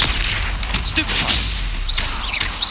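Stupefy spell casts in the video game Hogwarts Legacy land as repeated muffled booms and magical bursts. A voice shouts over the effects.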